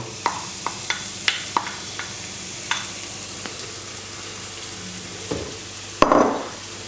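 Chopped onions frying in oil, a low steady sizzle broken by sharp utensil clacks and scrapes against the pan, with a louder stirring burst near the end.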